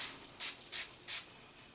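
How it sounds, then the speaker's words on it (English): Four quick spray bursts of water from a trigger bottle, each a short hissy puff, evenly spaced and close by. "I might spray some more water"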